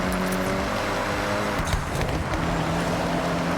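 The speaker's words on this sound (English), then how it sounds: "You can hear the engine has more power." A rally car engine in Forza Horizon roars steadily under hard acceleration, loud and close with a sustained drone, no talking.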